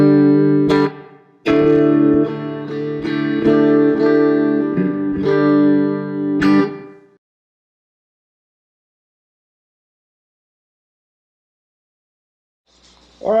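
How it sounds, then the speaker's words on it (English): An electric guitar played through a small Champ amp with a touch of reverb rings out in several strummed and picked chords, loud and up close, then fades into a long silence before a brief noise at the end. "A Champ with a little bit of reverb."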